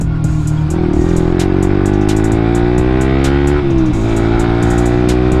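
A Suzuki GSX-R150 motorcycle engine revs hard while speeding, a loud close high-pitched buzzing drone that climbs in pitch, drops briefly at a gear shift and climbs again, with steady wind noise.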